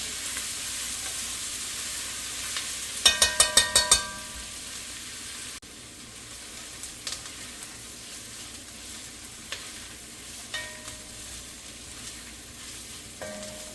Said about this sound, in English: So we're going to cook our onions and carrots down for about 3 to 5 minutes.